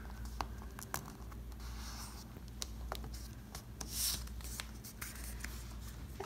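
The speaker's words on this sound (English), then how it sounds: "And then we're gonna fold the card over." Paper being folded into a gift card holder at a crafting table: soft close rustling and creasing with light taps and rubbing, steady and quiet throughout, no talk.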